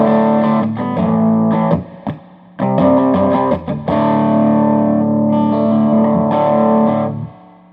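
A Lab Series L5 guitar amp cranked to maximum gain, its heavily distorted chords ringing out loud and close in sustained bursts with short breaks between strums.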